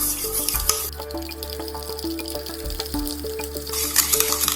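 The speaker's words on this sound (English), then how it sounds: "Nicely whisk it till the color changes." Egg and sugar are whisked in a bowl for a cake batter. Quick, rhythmic clinks and scraping come from close by, with a steady, busy texture and no talking.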